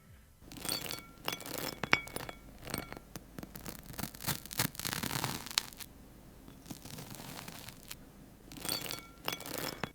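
AI-generated dense glassy clinking and tinkling, close and crisp, with clusters of bright chimes coming in waves and short calmer gaps between them.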